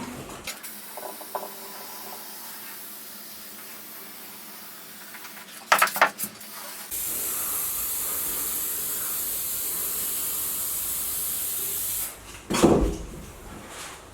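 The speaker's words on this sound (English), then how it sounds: "now that I got the spray glue on the wall" Spray glue hisses steadily from an aerosol can onto a wall during a zip strip installation, one long continuous burst lasting several seconds, preceded and followed by brief clattering handling noises.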